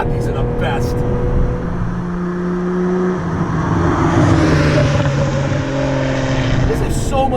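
The 1991 Ferrari Testarossa's engine climbs through the revs in a loud in-cabin howl, its pitch rising in steps between shifts, while someone talks over it.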